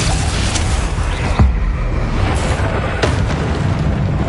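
A Bombarda blasting spell goes off in Hogwarts Legacy, giving a loud booming explosion with a rumbling low end, followed by further bursts at short intervals over a dense, continuous game soundscape.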